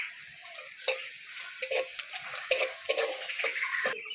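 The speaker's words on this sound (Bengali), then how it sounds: "ফোড়ন দিয়ে দেবো গোটা গরম মশলা, শুকনো লঙ্কা, জিরে আর তেজপাতা।" Whole garam masala, dried red chillies, cumin and bay leaf hit hot oil for tempering, making a soft hiss broken by irregular crackles and sharp little pops.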